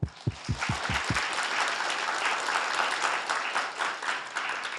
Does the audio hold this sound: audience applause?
yes